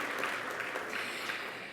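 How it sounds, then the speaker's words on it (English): Applause from a conference audience at the opening of a healthcare conference, a steady, fairly faint wash of clapping that stays even throughout with no voices over it. "So big round of applause for you for signing up and getting here."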